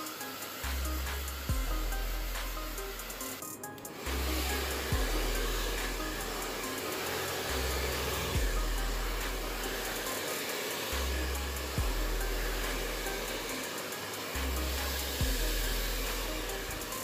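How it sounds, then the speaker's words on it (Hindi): A hair dryer blow-drying hair after a keratin treatment, giving a loud continuous airy whir that changes pitch and intensity in repeated cycles as it moves across the hair, close up with brief faint talk. "अब हम लोग इस पर ड्रायर कर देंगे, इसको छोड़ना नहीं है बालों में। तो स्टार्ट करते हैं कि ड्रायर कैसे करना है इस पर।"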